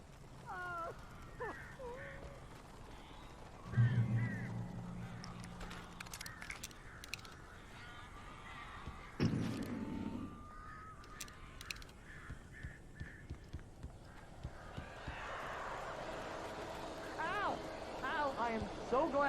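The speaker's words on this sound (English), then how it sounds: "These birds are weird." Crows cawing in the Alan Wake video game, several short harsh calls scattered through a dim, quiet scene with occasional thumps and faint voices talking in between.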